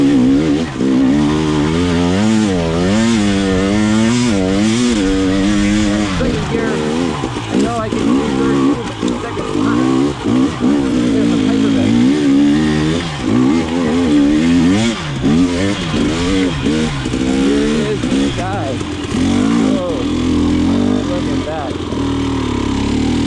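A 2020 KTM 300xc TPI two-stroke dirt bike engine revs loudly and repeatedly up and down close by, its rising and falling whine continuing throughout with voices partly heard over it.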